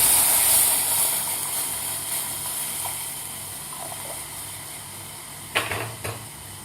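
Warm milk poured into a hot pressure cooker for mango kheer, giving a steady steamy hiss and sizzle that fades gently, with a few brief clinks near the end.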